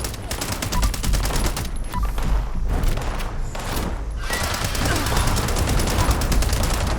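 Furious combat rifle with a faster fire rate in Fallout 76, firing dense, rapid bursts of gunfire that pause briefly then resume, loud and close, with a brief voice over the shots.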